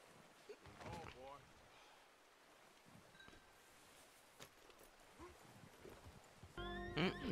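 Horses in the open-world western game Red Dead Redemption 2 whinny uneasily: one shaky neigh near the start, then a louder, harsher whinny at the close, over quiet rustling outdoor ambience.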